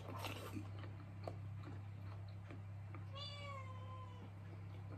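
A cat meows once, a clear drawn-out call near the end, close by against a steady low hum and faint household clicks, with people nearby offering it watermelon.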